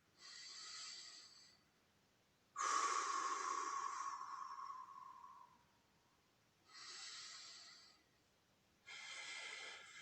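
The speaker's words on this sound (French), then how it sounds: "On commence à souffler. On inspire par le nez. Et on expire" Slow breathing exercise during a Pilates and core session for basketball: airy nasal inhales alternating with longer, louder mouth exhales, close and steady, repeated four times with no talk.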